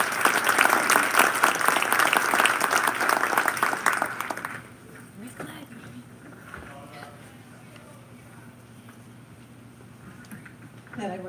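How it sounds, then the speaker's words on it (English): An audience claps warmly at a community health challenge kick-off event, loud and dense for about four seconds, then fading into a quiet room with faint shuffling. "give a nice warm round of applause for Marybeth."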